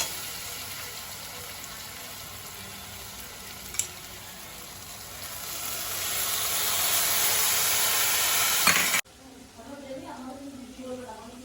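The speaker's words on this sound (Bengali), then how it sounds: "আদা রসুনের পেস্ট লবণ জিরা হলুদ আর লঙ্কা গুঁড়ি মশলাটা ভালো করে কষিয়ে নেবো" Ginger-garlic paste sizzles in hot oil with salt, cumin, turmeric and chili powder; a steady frying hiss swells louder as the spices are stirred, then cuts off abruptly near the end.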